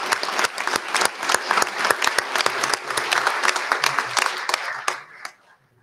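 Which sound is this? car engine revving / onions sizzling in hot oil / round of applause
round of applause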